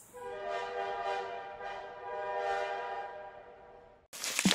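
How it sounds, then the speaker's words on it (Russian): An electric locomotive horn sounds in a sustained, harmonic blast with a few swells in loudness before cutting off abruptly. "Где электровоз? Турбокласс электровоз."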